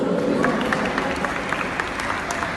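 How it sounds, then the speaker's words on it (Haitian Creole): An audience applauds singers at a zouk love performance, producing a steady wash of clapping that runs the whole time under a faint voice. "des applaudissements pour eux, s'il vous plaît"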